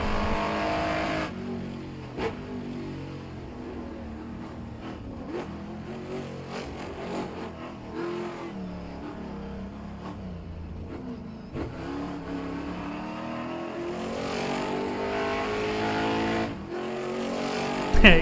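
Peugeot 106 race car engine in rFactor 2, droning and revving steadily for the whole stretch with shifts and throttle changes, loud and close, with no talking over it.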